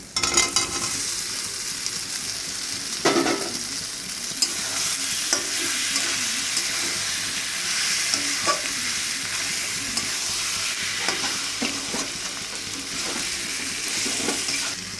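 Potatoes fry in spiced oil in a pan for an egg curry. Dense, steady sizzling continues up close, broken by occasional scrapes and clinks as the pieces are stirred.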